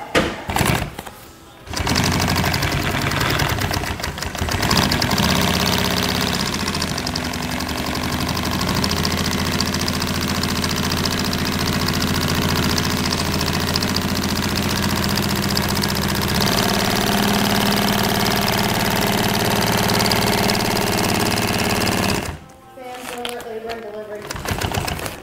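Sewing machine stitching curtain fabric for a 58 Carver aft curtain, a loud steady mechanical whir running for about twenty seconds with a low engine-like hum, stopping near the end before people talk.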